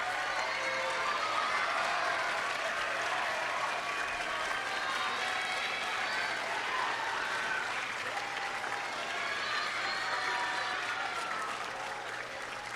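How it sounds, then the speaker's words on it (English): Sustained applause from an audience honoring coaches and mentors at a FIRST LEGO League Challenge qualifier awards ceremony, a steady, dense wash of clapping that holds at an even level for the whole stretch without letting up. "let's give them a round of applause"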